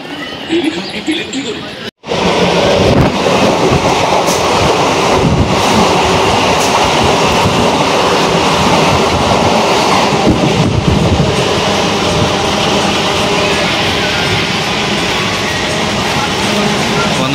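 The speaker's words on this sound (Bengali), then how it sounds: "ট্রেনের ভ্যান্ডারে মাল বুক করে আমরা ভ্যান্ডারে রয়েছি, ভ্যান্ডারে করে ফিরছি।" A train rumbles steadily along the rails, loud and close from inside the luggage van, after a brief sharp cut near the start.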